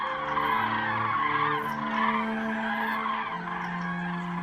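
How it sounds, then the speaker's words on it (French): Migrating cranes in autumn give drawn-out, honking calls, several birds overlapping in a steady chorus at moderate distance with no speech. "Les grues et bien d'autres oiseaux entament leur migration vers le sud"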